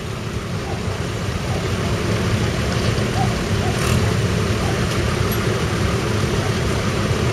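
A six-cylinder Super 6 forestry tractor of about 112 horsepower, four-wheel drive with a five-glass cab, runs steadily outdoors at a steam rally in Ashby-de-la-Zouch, Leicestershire, a continuous low engine drone with crowd and background noise mixed in.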